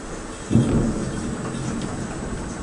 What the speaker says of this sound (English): Big thunder.